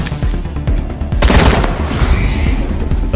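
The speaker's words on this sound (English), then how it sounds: "so he can shoot that guy" Gunfire in the turn-based game Wasteland 3 as Kwon shoots an enemy: a rapid burst of loud, close shots with booming tails, dense and continuous after a brief lead-in.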